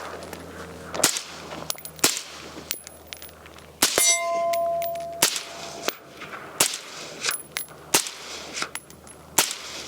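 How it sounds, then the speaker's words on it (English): Gunshots ring out one after another at a steady pace, each followed by a sharp metallic clang or ding as rounds strike steel targets, with a longer ringing tone after one hit. "You gotta shoot all 3 steel targets."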